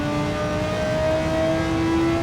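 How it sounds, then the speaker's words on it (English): Racing car engine in Gran Turismo 7 holds a steady high drone with a slowly rising pitch, loud and continuous for the whole stretch with no talk. "In terms of the sounds of the cars, some of the cars sound really intense and incredible."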